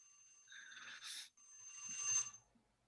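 A timer rings with a soft, electronic chiming trill in two short bursts, fairly quiet and heard alone, before fading out.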